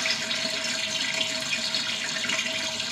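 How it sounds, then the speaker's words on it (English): Water splashes and patters continuously up close as wet fabric is shaken out, a steady hissing spray with no talking. "shake out as much of that water as I can"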